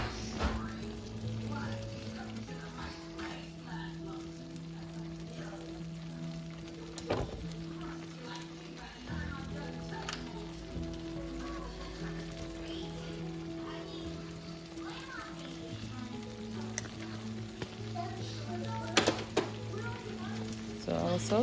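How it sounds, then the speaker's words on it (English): Tomato sauce simmers on low heat in a pan for chicken parmigiana, giving a soft, steady bubbling and sizzling hiss with occasional small pops. A faint low hum continues underneath, and no one speaks. "It just simmers for an hour to cook the tomato down."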